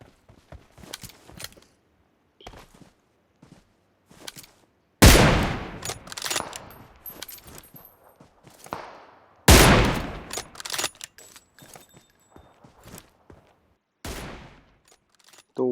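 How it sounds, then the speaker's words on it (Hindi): Two loud, sharp gunshots ring out in a PUBG battle-royale match several seconds apart, each with a long decaying echo. Soft clicks and footstep-like taps fill the gaps between the shots. "अब देखना यार, इकट्ठे 3 शॉट, वो भी हेड शॉट"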